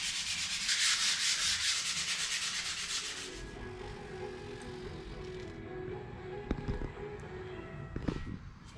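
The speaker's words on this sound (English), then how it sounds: "Time for a little pre-church sanding." Steady abrasive sanding, loud and close for the first few seconds, then easing into quieter scraping with a few sharp knocks near the end.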